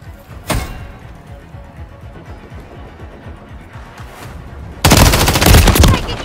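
Gunfire in Call of Duty Modern Warfare 3 (2023) multiplayer: a single loud, sharp shot, then a low rumbling lull, then a sustained rapid burst of automatic fire close and loud.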